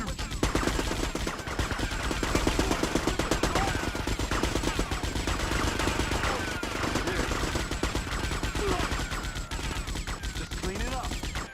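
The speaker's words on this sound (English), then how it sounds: "I'm gonna shoot you." Rapid, sustained automatic gunfire in the video game GTA Vice City Stories, loud and close, with dense rattling bursts filling the whole stretch and faint voices underneath.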